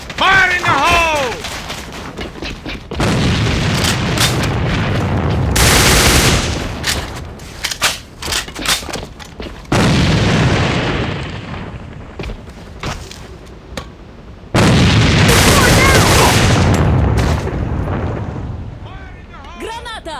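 Grenade blasts and automatic gunfire from the online shooter AVA, with heavy booming bursts and rattling volleys repeating across the span, loud and close, while game voices call out between the explosions.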